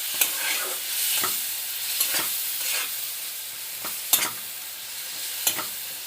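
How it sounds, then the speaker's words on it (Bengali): A spoon stirs soaked spice paste through a sizzling pan of mango and rohu fish curry, with steady frying hiss and a few sharp scrapes against the pan at irregular intervals. "আমি এই ভেজানো মশলাটা দিয়ে দেবো। ভালো করে নাড়াচাড়া করে নেব, যাতে মশলাটা মিশে যায় একদম।"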